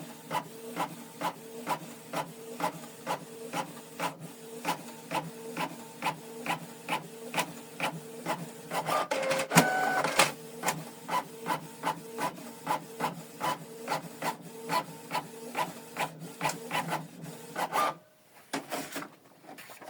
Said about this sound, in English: So we're going to print this document all in black and white.